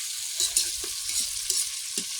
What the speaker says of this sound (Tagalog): Ginisa-gisa niya na yung bawang, sibuyas at kamatis.